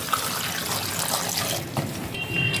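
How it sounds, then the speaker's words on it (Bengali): Water poured into a pressure cooker holding jackfruit pieces and potatoes, a steady close splashing stream lasting a couple of seconds. "দিয়ে দেব জল।"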